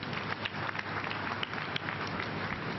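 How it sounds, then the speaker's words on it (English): Faint, distant applause from a church service congregation, a soft steady patter of many hands clapping at low volume. "Clap for her."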